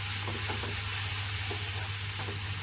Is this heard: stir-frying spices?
yes